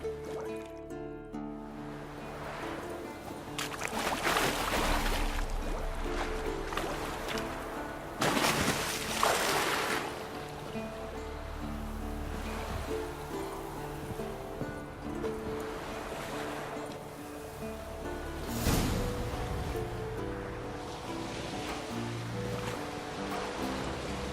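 Water sloshes and laps steadily as a rowboat moves across a lake in The Witcher 3: Wild Hunt, with a low sustained drone beneath and occasional louder splashes.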